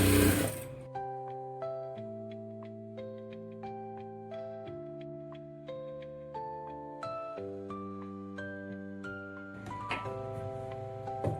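A sewing machine runs steadily, stitching a blouse with a continuous mechanical patter, while a melodic tune plays clearly over it throughout.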